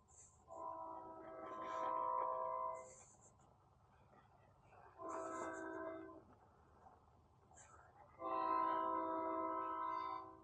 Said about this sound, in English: I'll shut up for a minute and just enjoy this train as we come up on this first wash to my right